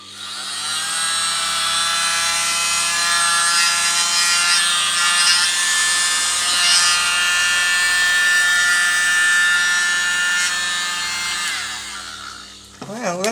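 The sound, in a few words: very small blower used on acrylic paint pouring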